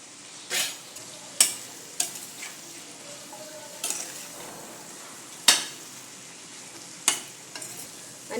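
Chopped spiny gourd (katurle) is sautéed with onion and tomato in a pan, giving a low, steady sizzle broken by sharp spatula scrapes and clanks at irregular intervals, close by and without talk.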